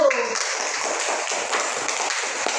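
Classroom applause for a student group, a broad steady wash of many hands clapping together for about three seconds, fairly close and even throughout, with a few sharper individual claps standing out.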